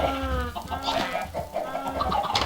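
Chickens cluck in Minecraft, several clucks overlapping in steady bursts at close range, with no talking over them.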